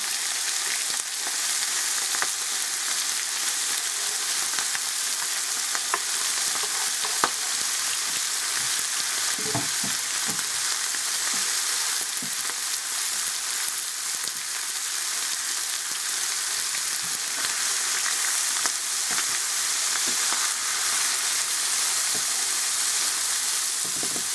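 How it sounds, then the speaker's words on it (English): Steady, loud sizzling of beef and onion frying in hot oil for Mexican shredded beef, a continuous crackling hiss with occasional pops and stirring sounds, no voices. "And yeah, it's going to sizzle."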